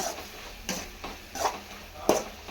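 Tomato and masala fry in a pan under a low sizzle, with three distinct scraping strokes of a spoon or spatula stirring at a slow, even pace.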